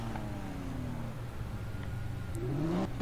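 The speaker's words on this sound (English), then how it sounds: "Let me real quick go ahead and show you some burnouts" A car in the Need for Speed video game does burnouts, its engine revving and whirring loudly with rising and falling pitch, then climbing sharply near the end.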